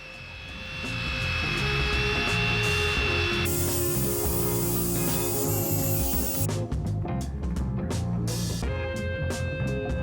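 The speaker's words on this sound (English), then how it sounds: "She started by using a scrubbing brush and quickly switched to a drill attachment for faster results." A loud, steady mechanical whirring and hissing of a drill brush attachment scrubbing burnt wood, shifting in pitch partway through, with no talking.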